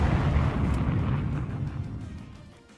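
Missile shot down in War Thunder air combat, a deep rumbling explosion that starts loud and slowly fades away over a few seconds.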